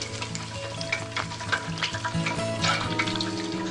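Hot oil sizzles and crackles steadily as chicken fries, with scattered pops and a constant bubbling hiss close by.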